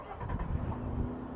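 A 2022 Nissan Frontier pickup truck engine, started by remote start, turns over and settles into a steady low idle rumble, close by and moderately loud, with no voices.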